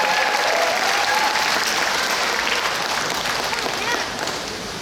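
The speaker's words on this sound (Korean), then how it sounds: "다시 한번 힘찬 박수 부탁드리겠습니다" Loud crowd applause fills the hall after a joint live concert with singers, saxophone and guitar, continuous and full before tapering slightly at the end, with faint voices underneath.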